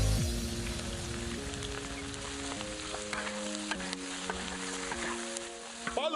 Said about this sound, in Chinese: 把肉爆干出香味